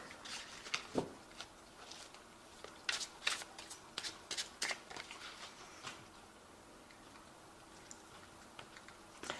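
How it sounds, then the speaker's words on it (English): Tarot cards are shuffled in quick bursts of crisp riffling and tapping, fairly close and quiet, with short pauses between rounds. "I have shuffled this deck"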